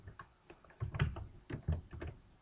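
Keys tapped on a computer keyboard in a quiet room, a quick irregular run of soft clicks with a few firmer strokes, close and alone with no voices.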